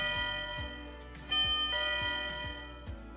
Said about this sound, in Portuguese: A campainha soa, sinalizando o morador que alguém está chamando.